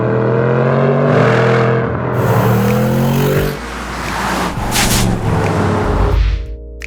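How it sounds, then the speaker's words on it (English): A 2022 Bentley Bentayga S with a 4-litre twin-turbo V8, loud and close, revving through rising tones with a brief dip and another surge of engine and exhaust roar. "nothing makes a bigger expression than the 4-litre twin-turbo V8 with 404 kilowatts and 770 newton meters"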